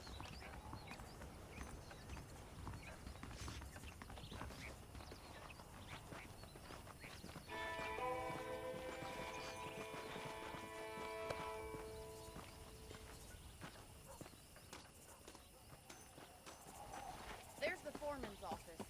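Steady clip-clop of saddled horse hooves walking at an even pace in Red Dead Redemption, with a musical tone swelling in the middle and background game sounds.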